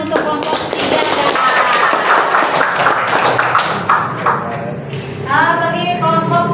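Classroom applause for student groups during a lesson, a few seconds of uneven clapping from a small group of students mixed with voices talking over it, ending with a short spoken phrase.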